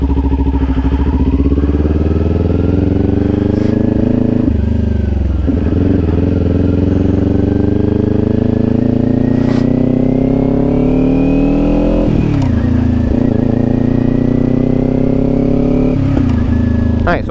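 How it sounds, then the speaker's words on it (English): A 2026 Kawasaki Ninja 400 motorcycle engine runs through a downshift. The loud, close engine drone holds steady, and its revs dip and swell a few times as the gears change. "let's demonstrate how to downshift for a new rider"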